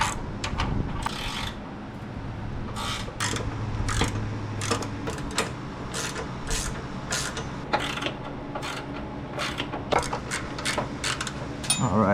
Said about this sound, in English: Now it's time to tighten everything up.